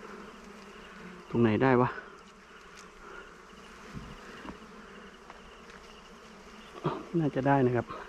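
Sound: bees or wasps buzzing around their nest

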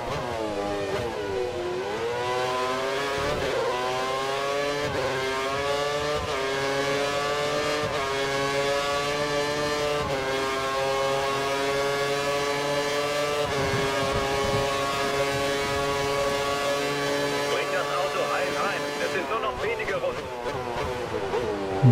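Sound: F1 race car engines lapping traffic, video game F1 2013

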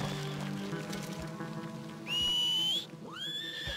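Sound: horse neighing in a video game

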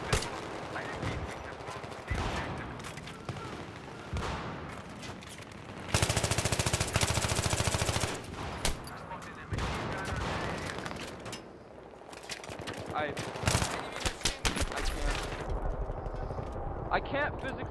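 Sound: gunfire from a video game (Global Conflict)

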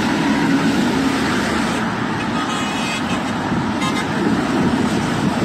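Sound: cars hooting their horns in a street

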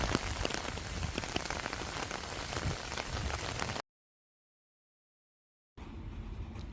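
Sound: heavy rain falling outside

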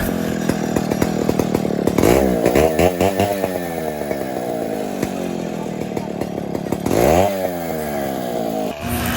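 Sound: chainsaw cutting coconut tree

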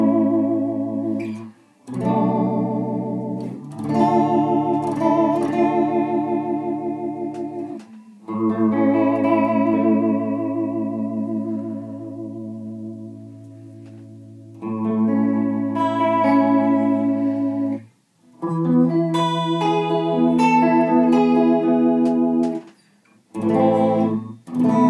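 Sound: chorus/delay pedal doing C6 chorus sound

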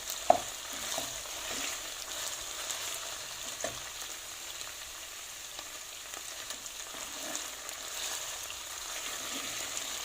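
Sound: frying chopped garlic in a pan

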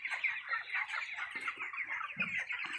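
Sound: chickens clucking on a poultry farm

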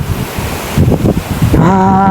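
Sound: wind blowing

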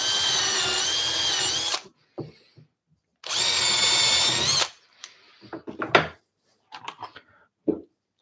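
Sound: small electric drill drilling wood

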